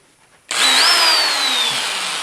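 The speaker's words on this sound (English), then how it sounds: "This is power sanding. Now, this is an inexpensive 90-degree drill and a mounting pad" A 90-degree drill with a sanding mounting pad starts abruptly and runs at a high, steady whine with a gritty abrasive rasp as it sands a bowl, close and loud until the end.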